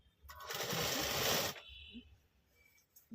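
A sewing machine runs in one short loud burst of stitching for about a second, then stops, leaving quiet handling noises; the machine is stitching puff sleeves onto a readymade lehenga blouse.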